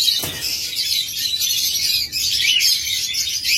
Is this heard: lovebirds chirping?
yes